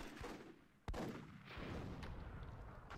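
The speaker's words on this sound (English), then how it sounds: "That might have been another suicidal cannon attack from Xenophon." Booming cannon shots ring out in a World War II video game match, one sharp loud blast followed by a rumbling roar of battle noise and further distant reports.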